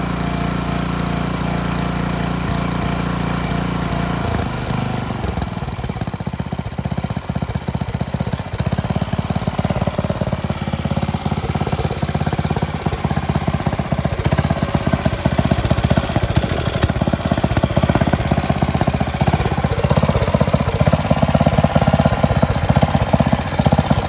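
A Briggs & Stratton OHV engine on a Karcher pressure washer runs steadily and loudly, freshly started and slightly warm, with a new air filter. It gives a continuous close-up drone and rattle, alone with no talking.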